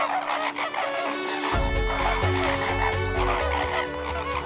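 Greater flamingos calling in a noisy flock on the outskirts of Karachi beside factories, a dense, continuous goose-like honking and clucking chorus with a deep low rumble joining partway through.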